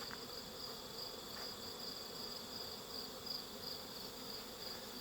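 Honey bees buzzing steadily around small colonies set in windows, a continuous, moderately close hum with a faint high whine running through the whole stretch.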